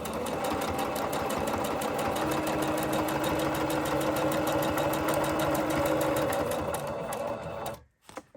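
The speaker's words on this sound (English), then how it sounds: "you're really close to the sewing machine. It's going to be loud" A sewing machine runs a straight stitch on a handkerchief, recorded very close up, with a loud, rapid, even mechanical whir that stops abruptly near the end.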